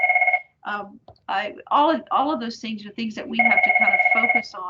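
A mobile phone rings with a steady repeating electronic trill at the start and again near the end, sounding close and clear beneath a person speaking continuously.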